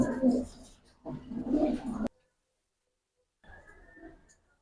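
Giribaz pigeons coo in low, soft bursts: two close together, a short silence, then a fainter coo.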